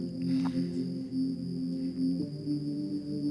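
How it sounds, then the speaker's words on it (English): A lo-fi synth pad roughened with light distortion and EQ sustains as a steady, layered chordal drone that swells and dips gently throughout, with no voices over it. "Put a little bit of distortion on it and a little bit of EQ to make it kind of more of a lo-fi feel of a pad"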